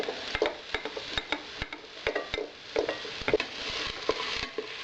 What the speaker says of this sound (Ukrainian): я влила олії і нарізала цибулю і буду жарити цибулю